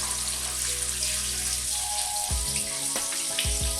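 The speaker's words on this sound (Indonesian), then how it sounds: "goreng potongan ayam seperti ini" Flour-coated chicken pieces frying in hot oil give a steady, dense sizzle and crackle throughout, loud and close, with no talking.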